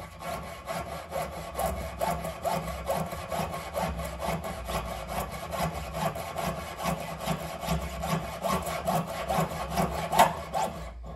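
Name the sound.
sawing off a metal part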